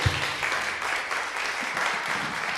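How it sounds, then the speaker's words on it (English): Warm applause from a theatre audience, a steady wash of clapping at moderate volume lasting a couple of seconds with no talk over it. "Let's give him a warm round of applause."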